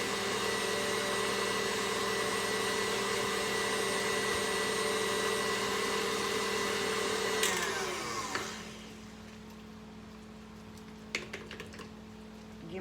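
A kitchen mixer whirs steadily and loudly as it blends pumpkin pie filling with sugar, then stops abruptly, leaving a quiet room with a few light clicks and knocks.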